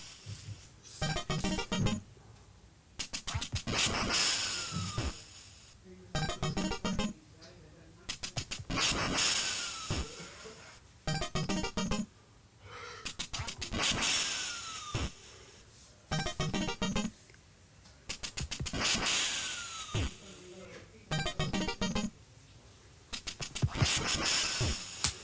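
Electronic duck quacks and chiptune game sounds from Duck Hunt on the NES, bursts of sound in repeated segments separated by brief pauses, loud and close.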